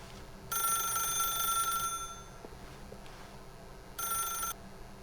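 Telephone rings in The Stanley Parable (2013): a loud electronic trill of about a second and a half, then a quieter stretch with faint knocks, then a shorter second ring.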